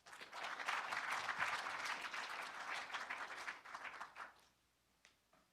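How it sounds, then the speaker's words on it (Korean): A lecture audience claps in a steady, fairly full round of applause that thins out after about four seconds and stops, leaving a few scattered claps in near silence. "동의하시는 분은 박수 한번 주시죠"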